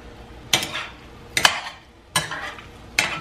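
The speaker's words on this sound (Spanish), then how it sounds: "Lo voy a revolver." Chicken seasoned with garlic powder, pepper and onion salt being stirred in a pan for chicken burritos: four distinct scraping, clattering spoon strokes against the pan over a soft sizzle, close and alone.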